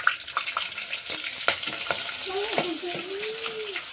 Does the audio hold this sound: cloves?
yes